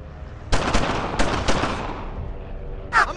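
Bursts of gunfire from the WWII shooter Brothers in Arms: Earned in Blood, loud and close, with sharp shots at the start, middle and end and a decaying rumble between them.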